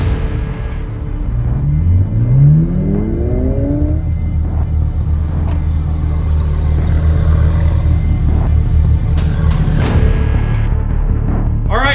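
A twin turbo Lamborghini engine idles loudly close by, with a couple of quick revs rising in pitch early on and a steady rumbling idle afterward, with no talk.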